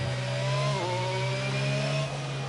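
A Formula 1 car engine whines in the racing game F1 22 at Monaco, a steady high-pitched buzz with a brief gear-shift dip partway through, loud and continuous with no talk.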